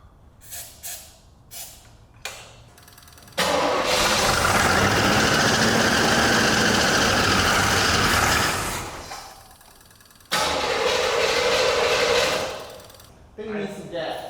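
A 1984 Monte Carlo SS engine that sat for 22 years is cranked several times in short bursts, then catches and runs loudly for several seconds, dies, and roars again briefly before stopping.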